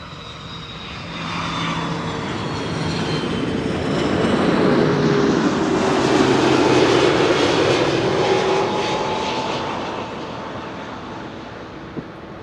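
A 14-year-old Airbus A330-300 jet airliner at Schiphol Airport, its engines rising in a broad roar that swells to a peak mid-pass and then fades gradually, heard alone with some wind on the microphone.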